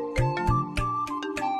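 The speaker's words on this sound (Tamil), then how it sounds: "கார்த்திக் தான் ஃபோன் பண்றான" Phone ringtone in a Tamil TV drama scene, a melodic electronic tune of short repeating tones ringing clearly and alone at moderate volume.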